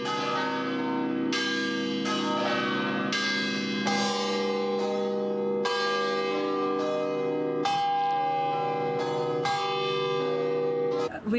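Seven church bells ring out over an old Italian town near Pisa, heavy resonant strikes overlapping in a loud, continuous peal with clear repeated hits and long ringing tones.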